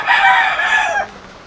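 A single hen gives a short, loud squawking call up close, lasting about a second before fading.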